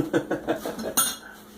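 A spoon pushes thick ground cloves and nutmeg down, clinking and scraping against a container in a quick run of short knocks, then one brighter clink. Close and quiet.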